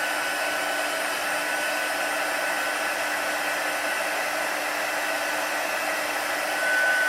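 A heat tool blows a constant, steady hiss of hot air close by while melting embossing powder on card, with no voices.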